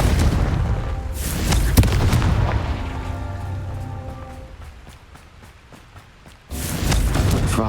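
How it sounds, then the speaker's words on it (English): A Confringo fire spell exploding in Hogwarts Legacy, heavy booming blasts with a crackling, rain-like rumble that fades away before another loud burst hits. "Confringo!"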